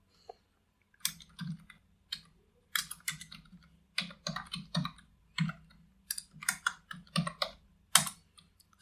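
Typing on a computer keyboard while coding, close and crisp, in short bursts of rapid key clicks broken by brief pauses, with no voice over it.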